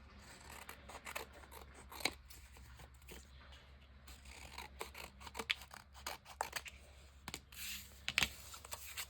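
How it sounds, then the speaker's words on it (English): Scissors snip through backed fabric pieces, trimming them down the middle for a round-robin quilt block: a close run of crisp, irregular cuts with soft rustling between them and no talking. "I'll go ahead and trim us down the middle"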